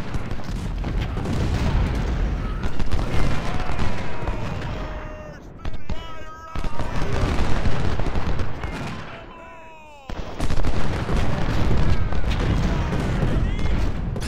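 Cannon artillery fire from the video game Ultimate General: Civil War at Gettysburg, dense rolling booms and crackling volleys in loud sustained bursts, briefly dropping away twice, with a voice speaking over the battle.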